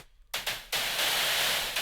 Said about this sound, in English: So I can mix it now a little bit with the white noise and a little bit of that snare.